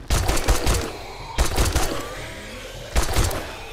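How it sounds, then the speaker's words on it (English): Pipe machine gun firing in 7 Days to Die, the zombie survival game, in three close, loud bursts of rapid shots separated by short gaps. "Pipe machine gun time."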